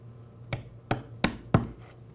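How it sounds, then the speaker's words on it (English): Four sharp, evenly spaced wooden knocks of a mallet driving a chisel to square the rounded corners of a stop dado, close and distinct with quiet gaps between strikes. "That's an easy problem to fix using just a chisel and a mallet."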